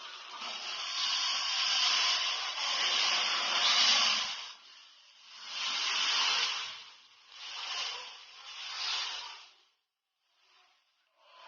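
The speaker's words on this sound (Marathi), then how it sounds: "आपण गॅस लो फ्लेमवर ठेवूयात आणि त्याच्यामध्ये आपण हे केलेलं मिश्रण आहे ते घालूयात" Batter is poured into a hot appe pan over a low flame, giving several bursts of loud, airy hissing sizzle that rise and fade in waves, close by, before trailing off into near silence.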